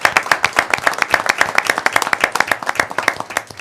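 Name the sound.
audience applause at police jury meeting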